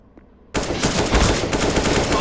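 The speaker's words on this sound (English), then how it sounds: "Quirky Turtle just heard the shots being fired" Gunshots in a competitive video game match: a sudden, loud burst of rapid automatic fire begins after a brief quiet moment and continues steadily to the end.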